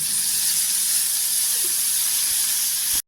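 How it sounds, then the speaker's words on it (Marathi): A spoonful of oil sizzles on a hot tava griddle while tomato thecha cooks, a loud, steady hiss that runs without a break until it cuts off abruptly. "इथे 1 चमचा तेल टाकायचं."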